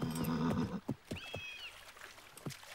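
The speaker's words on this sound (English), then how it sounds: "Good place for horses to drink." A horse whinnies in a high, wavering call, with hoof clops and low rumbling noise around it, fairly close.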